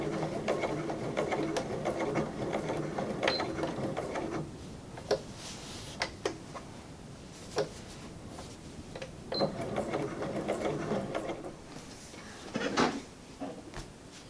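A sewing machine stitches an appliqué onto a personalized bag. Its steady mechanical whir runs continuously at first, then breaks into slower, intermittent bursts with small clicks as it works slowly around curved edges.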